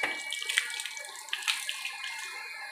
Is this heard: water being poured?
yes